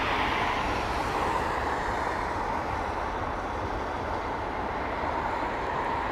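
Jet airliner landing in rain at London Heathrow Airport, a steady, loud broadband roar with rain hiss, continuous and even throughout with no voices.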